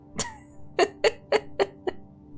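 A single person coughs six times, a sharp first cough followed by a quick, evenly spaced run of five more, close and fairly quiet.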